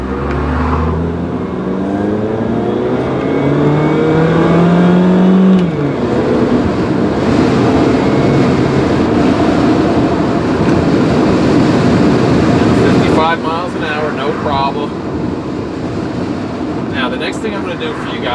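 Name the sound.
2000 Daewoo Leganza accelerating hard, shifting up through gears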